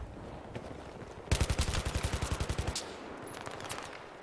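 F2000 rifle firing in Battlefield 3, a rapid automatic burst of about fifteen evenly spaced shots lasting over a second, loud against quieter game ambience with scattered softer effects before and after.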